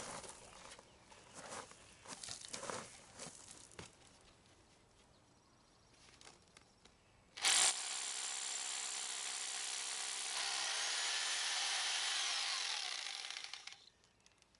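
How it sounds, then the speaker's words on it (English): Power drill bores holes in rock for feathers and wedges, first rough intermittent grinding and knocking, then a loud steady high whine of the drill running continuously for several seconds before stopping. "Okay, the holes are drilled."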